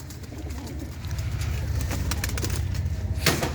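Pigeons coo in low, throaty murmurs that carry on without a break over a dense background hum, near and moderately loud, with no talking.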